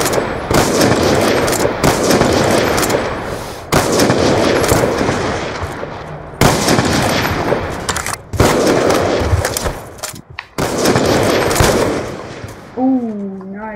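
Loud, close gunfire in Call of Duty Black Ops 2, sustained automatic bursts broken by a few short gaps, with some quieter game sounds near the end.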